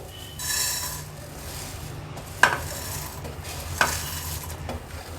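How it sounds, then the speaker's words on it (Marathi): Green cardamom and black pepper dry-roast in a pan for homemade garam masala, giving a soft, steady rustle as the spices are stirred, with two sharp clicks of a utensil against the pan. No one speaks. "हिरवी वेलची आणि काळी मिरी हे आपण भाजून घेणार आहोत"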